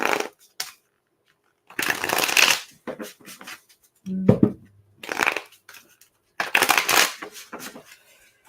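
Repeated bursts of tarot cards being shuffled close up, riffling in short rapid flurries separated by quiet pauses.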